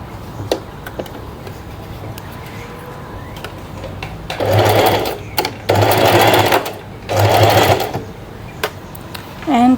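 A home sewing machine stitches fabric for a tie-front top in three loud, steady whirring bursts of a few seconds each, with quieter pauses and light handling noise between them.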